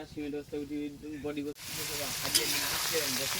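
Whole garam masala spices drop into hot oil for tempering a Bengali dish. A sudden, steady sizzling hiss starts partway through, and a person keeps talking over it.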